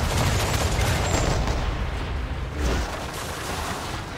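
Ship cannons firing in a naval battle in Assassin's Creed III Remastered, a dense, continuous barrage of booming shots and rumbling blasts that stays loud throughout, with no voices.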